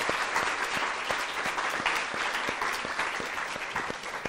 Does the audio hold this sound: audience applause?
yes